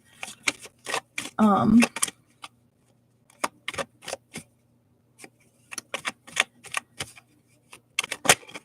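A tarot card deck is shuffled by hand in a quiet room, making a run of sharp papery riffles and taps in uneven bursts. A short voiced sound breaks in early on.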